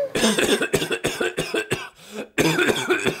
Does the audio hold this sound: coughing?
yes